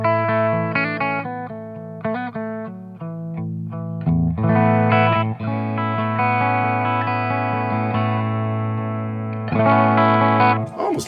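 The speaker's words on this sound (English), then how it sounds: "Should we have a little bit of reverb from the two notes?" Electric guitar played through a Sleepwalk amplifier with a touch of reverb, clean tone, loud and close, sustained chords and notes ringing on with a lush, lingering tail.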